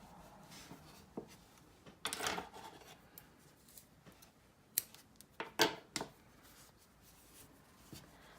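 Scissors snip yarn after a crocheted center circle for a Calypso Crab granny square, giving a few sharp close cuts with faint rustling and handling noise between them in a quiet room.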